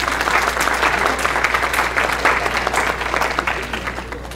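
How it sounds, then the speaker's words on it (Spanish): An audience at a faculty panel on AI in engineering education applauds after the final remarks, a loud, dense, continuous round of clapping with a constant low hum underneath and no speech. "Un aplauso."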